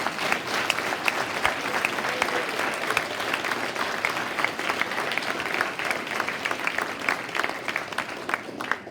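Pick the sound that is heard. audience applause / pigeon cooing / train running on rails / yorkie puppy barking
audience applause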